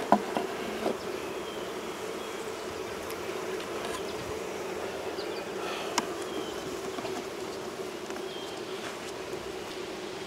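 Honeybees hum steadily around an open hive, a dense, continuous mid-pitched drone close by with occasional individual buzzes passing near.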